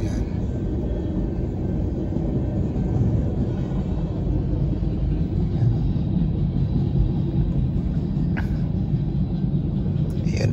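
A long, steady low rumble of a passing train, continuous and fairly distant, with no distinct horn or clatter.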